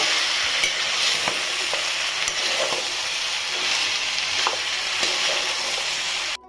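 Pumpkin pieces fry in oil for a South Indian pumpkin palya, making a constant bright close-up sizzle with faint occasional stirring clicks, continuing without a break until it cuts off abruptly at the end.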